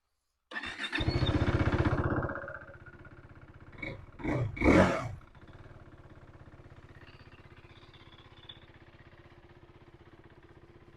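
A KTM RC 390 motorcycle engine starts up and idles nearby, then revs sharply three times before dropping back to a steady, thumping idle.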